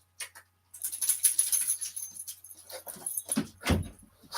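Dogs at a house door whimpering and scrabbling as they are let in, with bursts of high whines, jingling tags and paws over a faint low hum, fairly close.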